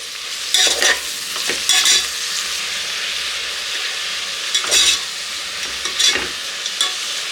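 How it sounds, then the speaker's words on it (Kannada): Fenugreek leaves frying with onions in a pan, with a steady soft sizzle broken by several sharp scraping stirs of a spoon against the pan, close and fairly quiet, no talking. "ಈ ರೀತಿ ಈರುಳ್ಳಿ ಫ್ರೈ ಆದಮೇಲೆ ಇಲ್ಲಿ ನಾನು ಮೆಂತ್ಯ ಸೊಪ್ಪು ಹಾಕೋತಾ ಇದ್ದೀನಿ."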